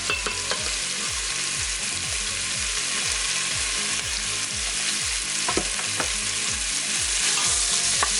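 Chopped onion sizzles and crackles steadily in a hot Instant Pot after meat has been seared, with a regular scraping rhythm of stirring throughout and a few sharper pops near the middle.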